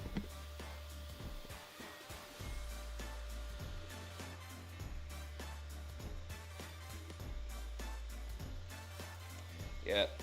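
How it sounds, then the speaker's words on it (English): Engraving machine working on EVA foam, a steady whirring motor hum with repeated rhythmic pulses and faint clicks, close, with a few louder bursts near the end. "Now you can see I can engrave on EVA foam"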